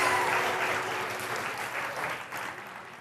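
A studio audience applauds a contestant at the finale of a singing competition, a bright burst of many hands clapping that starts strong and slowly thins over a few seconds.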